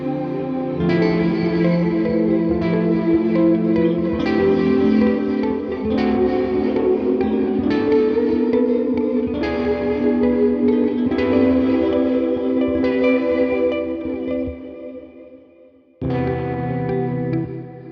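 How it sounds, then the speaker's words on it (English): Sustained guitar chords through a reverb with modulated delay time, washed in lush reverb with a wavering, chorus-like shimmer, notes blurring into long tails before a brief gap and a fresh chord. "think of it like an LFO that's modulating the delay time"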